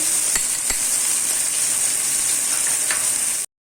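Ginger-garlic paste with ground red chilli and spices sizzles steadily in a hot pan, a constant close hiss throughout with a couple of faint stirring knocks near the start, then cutting off abruptly.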